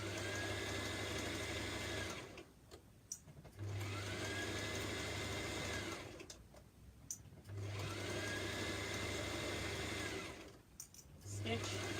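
Sewing machine stitching fabric for a top, running in three long steady bursts of whirring with brief pauses between, close and even, with no talk over it.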